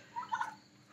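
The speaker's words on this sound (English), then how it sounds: "That's a turkey." A turkey on a farm gives one short, moderately close gobble, a brief rattling burst lasting under a second, with no voices.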